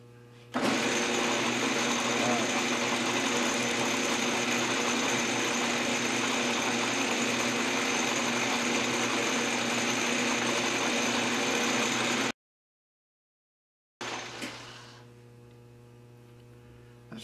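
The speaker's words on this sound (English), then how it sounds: "We can machine wood, surely we can machine this." Recycled HDPE plastic made from melted milk jugs being machined, likely turned on a lathe, giving a loud, steady motor whine with a constant hum for about twelve seconds, then a brief silence and a shorter restart.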